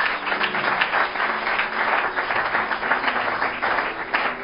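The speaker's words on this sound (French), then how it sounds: "Applaudissons le Seigneur Jésus-Christ." A church congregation claps together in sustained applause during a Sunday service, a dense steady patter of many hands filling a large room.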